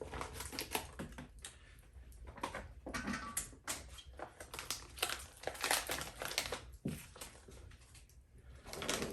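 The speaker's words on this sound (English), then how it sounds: "I'll just go ahead and cut it open." A plastic pack of vanilla beans is cut open close by: faint crinkling, rustling and quick clicking snips in an irregular run, heard alone and quiet.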